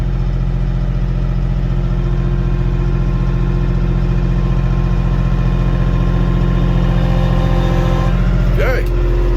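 A tractor engine idles with a steady, droning low hum throughout while hay is loaded, close and constant, with a brief higher whine near the end.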